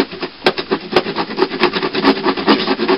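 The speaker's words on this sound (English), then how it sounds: "I'm basically sawing my way out" Rapid back-and-forth rasping of a hand saw cutting through wood, steady rhythmic strokes close by, no talking.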